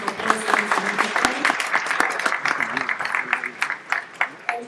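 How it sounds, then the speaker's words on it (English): Audience applause welcoming a minister and guest of honor at a Zimbabwe ICT Innovation Fund launch event; scattered, uneven clapping runs throughout, with voices mixed in beneath it. "A round of applause."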